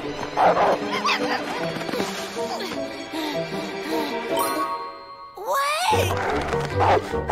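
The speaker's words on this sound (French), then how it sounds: "Tu sais parler le chien, Férocia?" A dog barks a few times amid busy cartoon music and sound effects, the barks short and fairly close, in an animated children's series.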